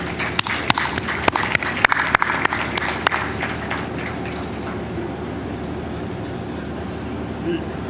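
Audience at an investment summit in Owerri bursting into scattered clapping that fades after a few seconds into a murmuring hall.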